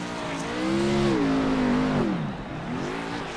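A race car in a superspeedway racing video game roars past with a rising then falling engine whine, loud and close for a couple of seconds before fading slightly as it blows by.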